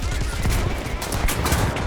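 In the War Thunder tank game, a dense, noisy rattle of gunfire with rapid overlapping bursts plays close and loud throughout.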